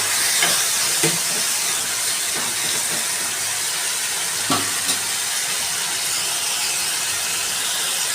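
Coriander powder is stirred into an egg and tomato curry in a hot pan: a constant hissing sizzle with a few sharp scrapes and clicks of the spoon against the pan.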